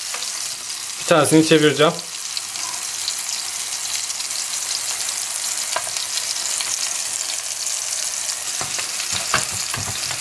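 Mini tomato omelets, menemen style, fry in a pan with a steady close sizzle and hiss throughout, a short stretch of speech near the start and a few faint clicks toward the end.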